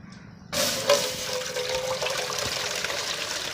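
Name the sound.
water poured into the chicken while cooking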